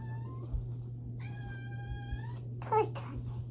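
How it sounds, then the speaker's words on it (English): A cat meows twice, a short call followed by a longer drawn-out one, then a brief rustle, all over a steady low hum. "Kitty cats. Hey, kitty cat."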